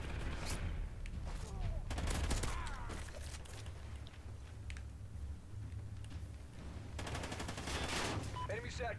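Gunfire in a Call of Duty Ghosts free-for-all match on the Strikezone map, with bursts of rapid shots scattered through the clip over steady game background noise.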